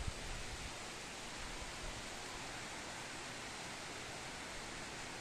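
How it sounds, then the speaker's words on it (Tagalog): Steady, dense rain hiss filling the whole clip, a continuous broadband wash with no pauses or voices. "lumalakas na naman yung ulan."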